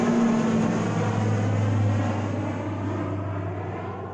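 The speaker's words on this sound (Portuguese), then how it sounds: "Ó o avião passando" An airplane passes overhead outdoors, a loud, steady broadband roar with a low droning hum that slowly fades over a few seconds, with no talking.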